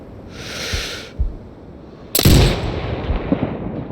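Sniper rifle fired in the video game Sniper Ghost Warrior Contracts 2: a single loud, close shot with a sharp crack and a booming tail that fades, preceded by softer hisses and faint thumps.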